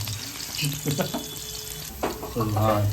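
Green chillies dropped into a pan of frying country chicken curry with garlic paste and turmeric, giving a steady close sizzle with a few stirring scrapes and a louder burst of frying near the end.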